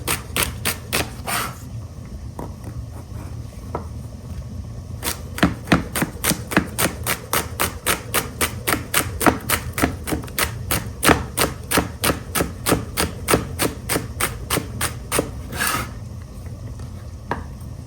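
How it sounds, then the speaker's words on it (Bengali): A knife chops English beans finely on a board in a long run of quick, evenly spaced strokes, sharp and close, after a few scattered cuts at the start. "কুচু কুচু করে কেটে নিই।"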